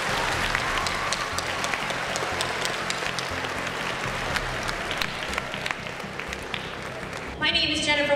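Audience at a school awards ceremony applauding in a sustained, dense clatter of clapping hands, steady and fairly loud, with voices faintly mixed in and a brief burst of louder noise at the end.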